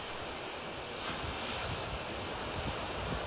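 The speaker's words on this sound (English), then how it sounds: "Here comes the surf." Atlantic Ocean surf at Vero Beach, a steady broadband wash of breaking waves with wind rumble across the microphone, continuous and moderately loud with no voices.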